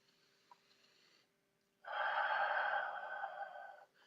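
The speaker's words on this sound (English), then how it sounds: "Deep breath." A single deep breath drawn in close to the microphone, a rushing inhale lasting about two seconds that rises out of near silence and then fades.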